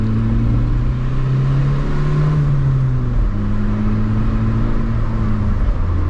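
A 1986 Nissan Sentra two-door with a carbureted four-cylinder engine revs steadily and loudly up close, its exhaust droning with a slight rise and dip in pitch.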